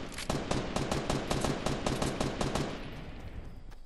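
Rapid automatic gunfire in the video game Fortnite, a fast even burst of around a dozen sharp shots close by, then fading into a short echoing tail.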